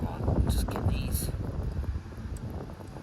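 Steady wind buffets the microphone at a lakeside carp fishing spot, a broad low rumble with gusty swells over about three seconds, heaviest at the start and easing slightly toward the end.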